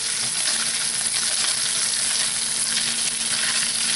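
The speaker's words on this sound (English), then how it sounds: "Okay, cooking a bacon." Bacon fries in a pan, making a dense, even crackling sizzle that holds steady and close throughout with no talking.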